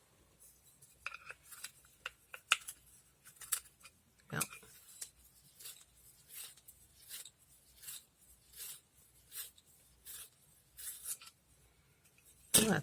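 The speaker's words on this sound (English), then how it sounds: "But I need to sharpen this pencil." A pencil is sharpened in short scraping bursts, repeated rasps with pauses between them, close and fairly quiet, with a brief spoken word near the start.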